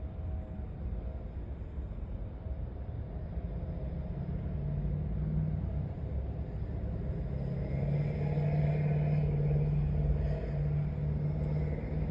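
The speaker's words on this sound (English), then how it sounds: "That was a flatbed truck that went by." A flatbed truck passing on a road, heard from inside a moving car as a continuous low engine rumble with steady road noise that swells slightly as it goes by.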